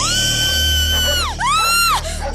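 Several people scream and yell in a Hindi film comedy scene, producing loud, high, wavering cries in a few overlapping bursts with sharp rising and falling pitch.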